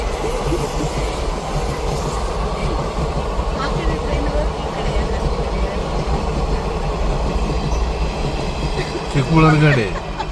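A train rumbles past a closed railway crossing gate, steady and close, a loud continuous roar with clattering wheels, ending in a brief rising tone near the finish.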